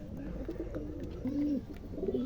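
Pigeons in a loft give soft, low cooing calls, a few rolling coos rising and falling over a couple of seconds, fairly close and alone with no talk.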